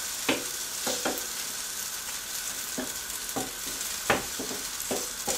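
Potatoes and onions frying in a hot pan, a continuous bright sizzle broken by repeated scraping stirs at irregular intervals.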